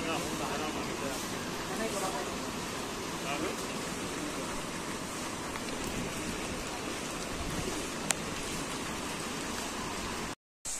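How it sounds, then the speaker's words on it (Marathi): Steady rain with strong gusting wind on a morning in the Konkan countryside, a continuous broadband wash that stays evenly loud throughout, with a brief sharp tap near the end and no voices. "आज सकाळच पाऊस पडतोय आणि हवा सुद्धा सुटलीय, खूप वारा जोराचा सुटलाय सकाळपासूनच."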